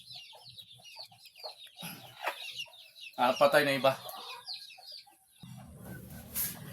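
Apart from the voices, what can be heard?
chickens clucking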